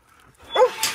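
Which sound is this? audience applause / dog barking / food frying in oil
dog barking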